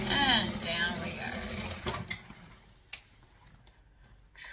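A sewing machine stitches a beanie, running briefly at the start before stopping, then sparse clicks and a sharp tap as the work is shifted.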